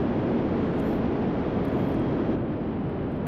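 An F-14 Tomcat jet taking off in the SimplePlanes VR game: a loud, continuous broadband engine roar with a steady rushing quality, unbroken and without talk.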